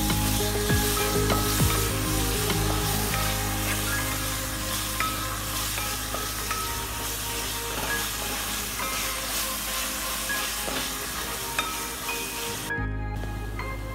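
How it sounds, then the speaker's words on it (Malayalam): Sliced green chillies sizzle steadily in a pan of duck curry base while being stirred, a continuous close frying hiss with soft scraping, cutting off briefly near the end. "ഇനി അടുത്തത് അതിലേക്ക് ആറ് നീളത്തിൽ അരിഞ്ഞ പച്ചമുളക് ഇട്ട് കൊടുക്കുക അത് ഈ നല്ലതുപോലെ അതും ഇളക്കി കൊടുക്കും"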